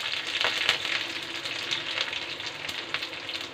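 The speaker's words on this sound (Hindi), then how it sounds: "अब इसमें हम गार्लिक डालेंगे, थोड़ा सा उसको पकने देंगे।" Garlic sizzling in a hot pan over a high flame for white sauce pasta, a steady crackling fry with occasional sharper pops, close and continuous with no voices.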